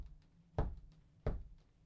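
A foot taps out a song's tempo in two distinct, fairly loud thumps spaced well apart, standing alone over a quiet background.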